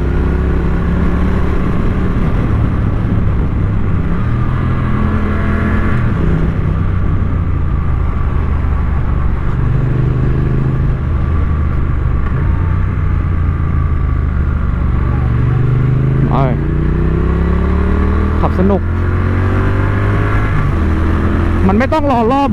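Triumph Street Twin two-cylinder motorcycle riding at speed at low revs: a loud, steady engine drone with rising and falling pitch through gear changes, under wind rush, with someone talking over it throughout.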